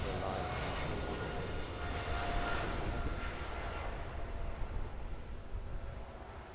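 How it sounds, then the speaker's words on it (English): An Emirates Airbus A380 at Auckland airport makes a steady, broad roar of engine noise that fills the whole stretch, moderately loud and heard from a distance without any talk. "This one now, the Emirates Airbus A380."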